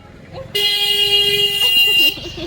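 A car horn blares in one long, loud, steady honk lasting about a second and a half as a vehicle pulls up at a home, with faint household noise before and after.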